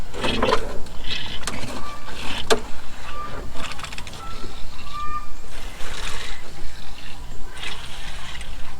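A hand pump is worked with repeated mechanical strokes, rhythmic clicks and squeaks recurring through the clip, fairly close, in an RV shop during a solar system install.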